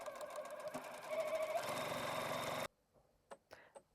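A sewing machine stitches steadily at close range for a few seconds with a fast, even mechanical rhythm, then stops and leaves a few faint clicks.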